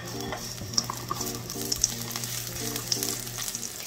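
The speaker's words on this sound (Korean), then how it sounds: "먼저 당근 먼저 넣고 볶아주세요." Carrots sizzle and crackle in a hot oiled pan as they are stir-fried, with a continuous close frying hiss and occasional scraping of the stirring utensil.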